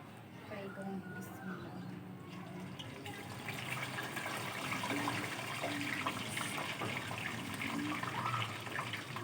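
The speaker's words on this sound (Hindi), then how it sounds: "अब मैं चरखा इसके अंदर डाल के फ्राई करूँगी।" Lahori chicken chargha fries in hot oil with a steady, loud, close sizzling hiss that builds slightly as it goes on, while someone talks over it.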